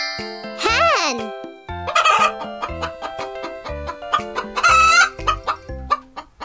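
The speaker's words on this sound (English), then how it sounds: "Hen." A hen clucks repeatedly in short, uneven bursts, with a few higher drawn-out squawks mixed in, close and fairly loud.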